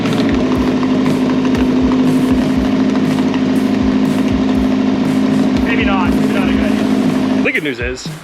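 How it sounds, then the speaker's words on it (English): An untuned Honda Integra with an H22 engine idles nearby with a leaking exhaust, a steady loud hum under rapid ticking puffs. A brief burst of talk comes late, then the engine cuts off near the end. "Exhaust leak."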